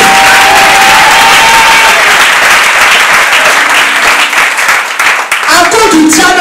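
A church congregation claps and cheers loudly and continuously, dense applause filling the room while voices shout over it.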